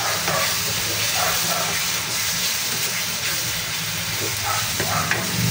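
Shrimp paste (alamang) sautés with tomato in a hot pan, giving a continuous close sizzling hiss with no talking.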